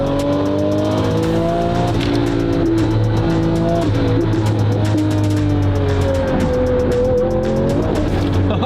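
A twin-turbo Lamborghini Murcielago SV accelerates hard with wheelspin, its engine roaring loud and close as revs climb and shift, with tire noise layered over the sustained drone.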